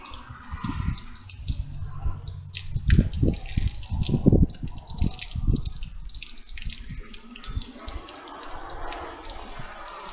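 A stream of running tap water for sample collection splashes steadily nearby, with louder gushing bursts early on that settle into a softer continuous flow.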